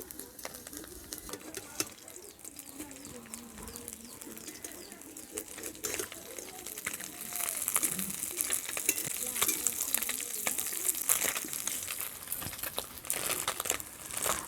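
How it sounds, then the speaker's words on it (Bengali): Small puti fish frying in mustard oil in a kadai as the pieces are flipped, a steady crackling sizzle with faint scraping and bird chirps in the background, growing louder toward the end. "মাছটা এক পিঠটা হয়ে গেছে, আর এক পিঠটা উল্টে দিচ্ছি"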